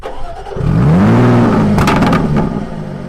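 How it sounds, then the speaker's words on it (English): A Jaguar F-type P380 sports car's exhaust blips loudly, the engine note swelling up and then dropping back to a rumbling idle, close by. "Nice meaty exhaust layout, sounds very good, we'll give you a blap of that."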